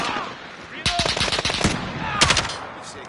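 Rapid bursts of automatic gunfire in Call of Duty: Modern Warfare (2019), hardcore team deathmatch: one long volley of close, sharp shots, a pause, then a second shorter burst, with faint game ambience between.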